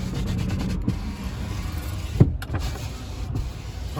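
Inside a 2010 Subaru Forester, the electric power windows whir steadily as they move, with faint clicks and a thump partway through, over a low idling cabin hum.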